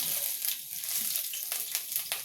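Ginger, onion and green chillies frying lightly in two spoons of oil in a wok, a steady close sizzle with soft stirring scrapes and a few brighter crackles, no talk.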